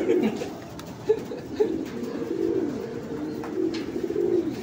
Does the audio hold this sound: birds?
yes